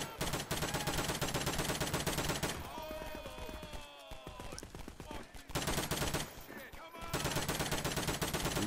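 NPCs fire guns at each other in Garry's Mod, with dense rapid bursts of automatic gunfire, loud and close, broken by short pauses filled with other battle noise.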